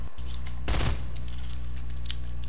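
Video game gunfire: one rapid automatic burst goes off over a constant low background hum, with faint clicks around it.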